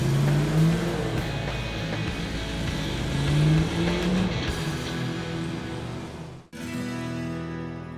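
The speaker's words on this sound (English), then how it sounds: "Let's see if the starter has the power to crank, move the vehicle, and start the engine at the same time." An off-road vehicle's starter cranks and the engine catches and runs, a steady close mechanical drone with rising whine, then a brief cutoff near the end before the running engine returns, with no speech.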